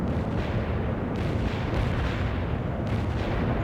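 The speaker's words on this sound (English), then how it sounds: "You have incoming artillery again, Romanov." Artillery fire in the World in Conflict strategy game makes a continuous heavy rumble of overlapping booms, loud and steady throughout, with no voices heard.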